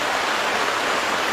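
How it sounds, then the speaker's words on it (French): Rain falls as a steady, even hiss of dense patter, fairly close and unchanging, with no voices present. "Et la pluie commence à..."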